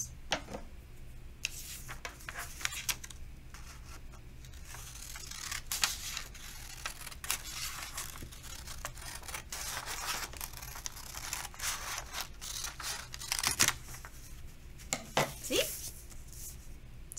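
Scissors cutting down the middle line of paper to make a crown, a run of crisp snips and crinkles repeating through the whole stretch, close and moderately loud, with no talking.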